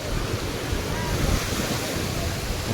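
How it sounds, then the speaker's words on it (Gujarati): Big sea waves break continuously on the shore at Ghogha where people are bathing, a broad, rushing roar with gusty wind noise on the microphone and no pauses. "મોજા જો કેવા આવે છે મોટા મોટા ભાઈ"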